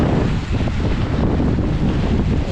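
Strong outdoor wind buffeting the microphone, a dense continuous roar with low gusty rumbling, loud and steady with no voices.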